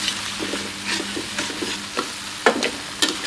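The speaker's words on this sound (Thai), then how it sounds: "ตั้งกระทะใส่น้ำมันลงไปเล็กน้อยนำพริกลงไปผัด ผัดให้หอม" Chillies stir-frying in a little oil in a wok, with soft sizzling under repeated scraping strokes of a spatula, several sharper clacks standing out, close and fairly loud with no talk.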